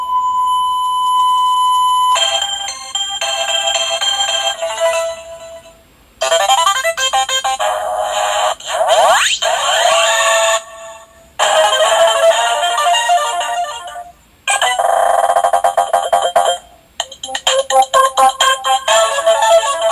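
A Simon Micro electronic handheld game runs its sound test, playing a loud series of bright electronic beeps and short melodic jingles in separate bursts with brief pauses between them; no one talks.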